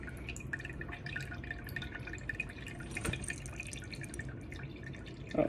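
Excess water dripping from an overwatered alocasia plant pot being pulled out of its self-watering planter, a steady run of small close drips through the clip with a brief louder splash near the end.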